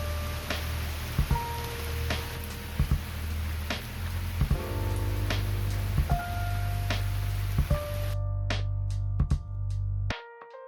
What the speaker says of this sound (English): Rain was falling on the roof.